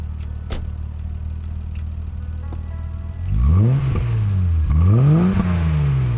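A BMW E30 idles with a low rumble through a newly installed exhaust, then the engine revs hard several times, rising and falling in deep throaty bursts.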